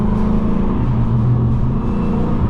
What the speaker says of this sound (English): I can hear it a little bit better because my exhaust is so loud.